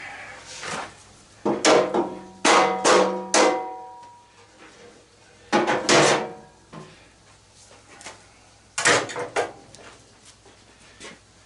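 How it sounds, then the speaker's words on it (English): A hammer taps the retaining pins out of a scrap BBQ grill, giving a few sharp, clustered metallic knocks in bursts, close and fairly loud, with quieter shuffling between strikes. "Grab the hammer and tap the pins out."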